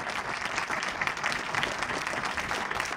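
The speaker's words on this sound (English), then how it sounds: "Give him a big round of applause." The crowd at a mayor's State of the City address in Haverhill gives a state representative a round of applause: dense, steady clapping through the whole stretch with no one speaking over it.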